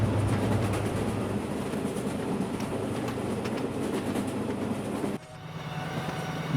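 Tista Express intercity train running at full speed near Tongi Junction, with a loud, steady rumble and rattling clatter of wheels on rails from inside, the roar dropping briefly near the end before resuming.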